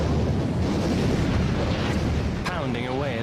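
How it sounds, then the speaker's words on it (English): Naval bombardment of the Normandy coast by battleships, cruisers and destroyers in World War II, a continuous loud rumbling roar of heavy gunfire with a narrator speaking over it. "200 ships bombard 50 miles of the Normandy coastline"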